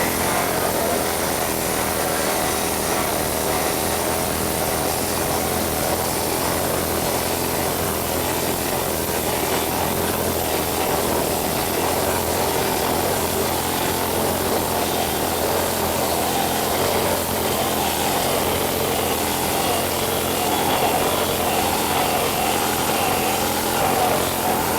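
A planishing hammer works sheet metal with a steady, continuous rapid hammering buzz. It is loud and close throughout, with no talking.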